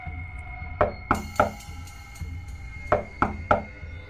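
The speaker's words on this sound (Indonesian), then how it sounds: "berkali-kali dia mencoba mengetuk pintu rumah bambu itu" Knuckles rap on the door of a bamboo house in two bursts of three knocks each, sharp, close and hollow-sounding against a quiet room.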